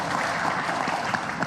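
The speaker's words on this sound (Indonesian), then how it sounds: "tepuk tangan dong" An audience at a political party press event gives a steady round of applause, a dense wash of clapping filling the room without pauses.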